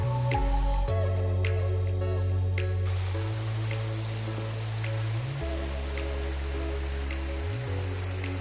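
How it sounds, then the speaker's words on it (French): A small mountain stream in the snowy Pyrenees, a continuous close rushing of water under steady low tonal hum and shifting drones, with faint sharp clicks scattered across it. "Alors là, on traverse un petit bout de ruisseau."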